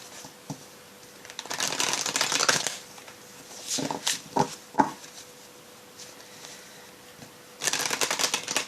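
An oracle deck of intuition cards being shuffled in several close, crisp riffling bursts, with quiet pauses between them and no voices.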